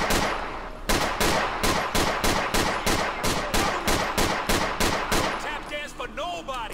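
Rapid automatic gunfire from a police shootout in GTA IV with the LCPDFR mod in an alleyway, loud, steady bursts of about two shots per second for six seconds, ending as a voice speaks.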